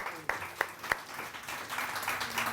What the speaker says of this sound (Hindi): इनके लिए भी बहुत सही तालियां